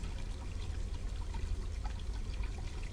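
Hot water gushing steadily from a tap in the game Black Mirror 2, a continuous close pouring rush with no voices.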